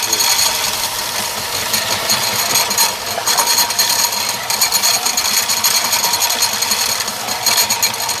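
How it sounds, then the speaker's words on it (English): Power sander running steadily across wooden boards for a decorative chicken egg rack, a loud continuous buzzing grind with brief dips in intensity throughout. "we're just going to run all of our boards through a sander real quick."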